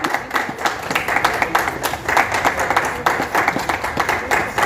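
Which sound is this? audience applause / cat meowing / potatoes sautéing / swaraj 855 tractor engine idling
audience applause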